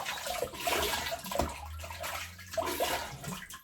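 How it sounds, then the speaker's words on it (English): Running water from a tap splashes steadily as shaving cream is rinsed off after a shave with a synthetic brush, a close, continuous wash with small bursts of splashing and no talking. "Rinse off the excess cream."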